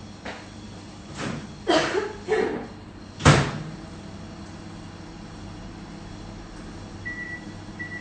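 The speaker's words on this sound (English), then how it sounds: "Okay, into the microwave." Microwave oven door shut with a few sharp clunks and thumps, followed by a low steady running hum and a short beep, close and clear in a home kitchen.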